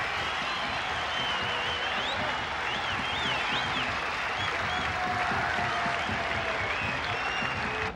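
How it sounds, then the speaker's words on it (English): Crowd of about 15,000 cricket spectators at a 1996 World Cup one-day match between Sri Lanka and Kenya applauding a batsman's fifty, a continuous distant roar of clapping with whistles and shouts rising above it. "Acknowledging the applause from the"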